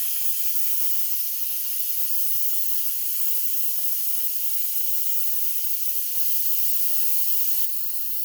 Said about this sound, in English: what I'm going to do to release the pressure is do a quick release by pulling this lever from seal to release, so it's going to get really loud